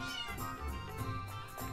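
A cat in the game Chrono Cross gives drawn-out meows, heard faintly over a steady, layered in-game music track.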